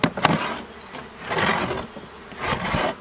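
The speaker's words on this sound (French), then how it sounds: "Mais avant, on va gratter un peu le couvercle." Scraping across the wooden lid of a beehive during a spring hive inspection, a few rough rasping strokes up close with a scratchy start and longer swells, no talk.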